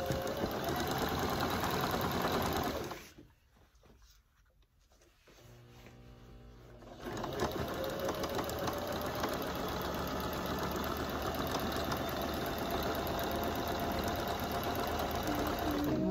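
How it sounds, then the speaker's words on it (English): A sewing machine stitches a quarter-inch seam along quilt pieces with a loud, steady whirring hum. It stops for a few seconds, then runs on smoothly to the end. "put them right sides together and sew that 1/4 inch seam allowance down that one side"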